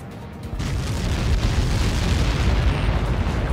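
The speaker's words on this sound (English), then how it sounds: "How many got caught in that explosion?" A massive explosion in the Ace Combat 7 video game campaign, heard as a deep rumbling blast that swells quickly and rolls on loud and sustained.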